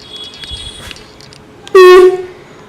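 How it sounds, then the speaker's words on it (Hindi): An extra horn wired into a motorcycle or scooter anti-theft alarm gives one loud, short burst of tooting after a quiet stretch with faint background noise. "ये जो मैंने अभी एक्स्ट्रा हॉर्न लगाया हुआ है"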